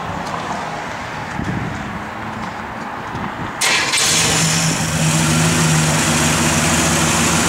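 A 1967 Chevrolet Impala convertible with a rebuilt motor cranks and catches, firing into a loud, steady idle after a few seconds of starter churn.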